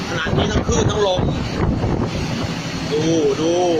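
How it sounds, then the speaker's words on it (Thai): Strong wind buffets a boat caught in a storm at sea, with rain and breaking waves, as a loud, continuous rushing roar under excited speech throughout. "ขนาดนี้ทั้งคลื่นทั้งลม"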